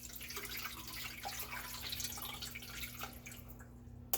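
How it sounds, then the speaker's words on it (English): Water trickles and splashes steadily into a food processor bowl while making sofrito, a soft continuous pour with small drips, fairly quiet and without speech. "I put about 2 cups of water in there right now."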